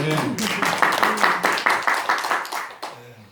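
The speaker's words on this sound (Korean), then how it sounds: "이럴 때 박수 한번" Applause from an audience at a Korean church lecture on biblical financial management, a dense wash of many hands clapping for about three seconds, loud and steady, fading at the end, with a voice speaking faintly beneath.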